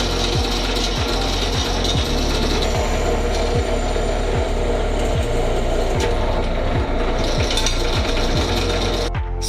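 Aluminium rear spar plate for a Sonex kit aircraft being lightly deburred by hand, with a steady repeating rasp of roughly a dozen even strokes over a constant workshop hum, close and loud, no talking.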